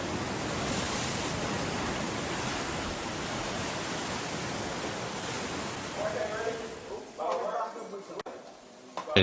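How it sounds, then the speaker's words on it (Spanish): Ocean waves crash against the cliffs of Archer's Bay, Barbados, a loud continuous roaring wash that eases and breaks up toward the end, with a voice speaking beneath it. "Los acantilados golpeados por las olas de la bahía del Arquero"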